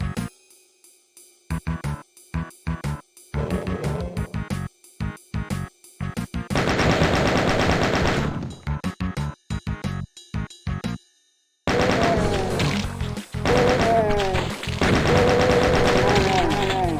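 Weapon fire in the first-person shooter Doom, with loud repeated bursts of game gunfire, choppy at first and then sustained rapid shooting, with brief silent gaps.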